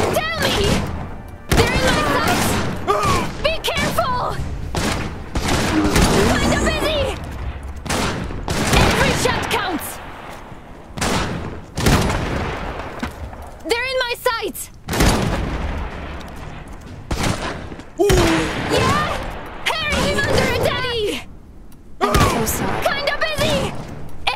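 Gunfire in the video game Iron Harvest: repeated bursts of rifle and machine-gun shots with heavy booms, loud and chaotic throughout, mixed with shouted voice lines from soldiers.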